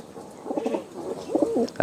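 Pigeons coo on a farm, a few soft, rolling calls repeating close by, with a brief louder rustle at the end.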